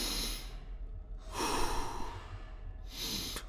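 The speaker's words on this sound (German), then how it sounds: "Ruhig atmen. Mach mir nach." A person wearing a mask in the game Five Nights at Freddy's 2 breathes slowly and calmly, with three close, soft airy breaths separated by short pauses.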